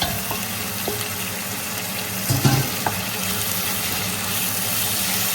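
Onions and tomato sautéing in a home-kitchen pan for chicken biryani: a steady close sizzle with stirring scrapes and a brief louder clatter midway, plus a faint running-water wash underneath.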